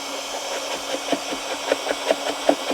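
A heat gun on a low setting warms a plastic surface for scraping, giving a steady whooshing blower hum with faint intermittent ticks and taps.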